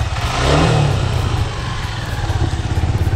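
A Suzuki Gixxer 250 motorcycle engine roars close by, surging in a quick rev before settling into a loud, steady throbbing idle.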